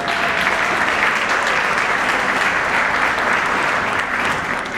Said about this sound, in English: let's give a warm round of applause to Mrs.